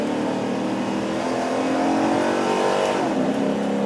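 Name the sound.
modified Chevy Caprice police car accelerating loudly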